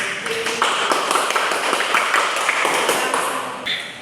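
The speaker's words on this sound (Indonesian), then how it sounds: "Mari kita beri aplaus dulu." Applause in a classroom, a loud burst of clapping with crisp individual claps close by, fading slightly toward the end.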